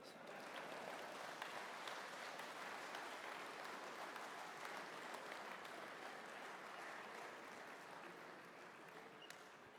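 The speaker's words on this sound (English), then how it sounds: "Clap, you bastards." Audience applause at a talk, a full, steady roar of many hands clapping sustained for about ten seconds, easing slightly toward the end, with no voices over it.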